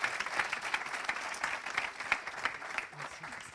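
Applause from the audience at a business awards ceremony in the Pyrénées-Orientales as an entrepreneur trophy is presented, with moderate clapping with audible individual claps and a voice speaking over it near the end.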